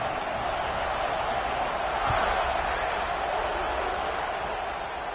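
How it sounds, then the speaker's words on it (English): A college football stadium crowd buzzes after a score before the kickoff, a dense continuous roar of many voices, loud and sustained, with a brief thud near the middle. "this crowd is buzzing after that last score"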